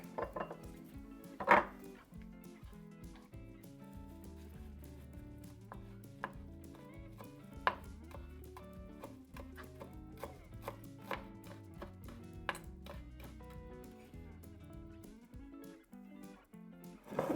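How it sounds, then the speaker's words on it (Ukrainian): Parsley is finely chopped with a knife, producing quiet, scattered taps and clicks on a board along with light clinks of kitchen utensils, faint and irregular. "дрібненько наріжемо петрушку"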